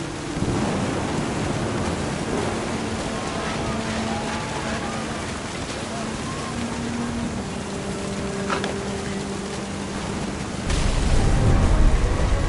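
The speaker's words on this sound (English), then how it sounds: "The thunder sounded much too close and full of angry power" Stormy weather in the game What Remains of Edith Finch, a steady wash of rain with low rumbling thunder throughout and a heavier rumble swelling near the end, no voices.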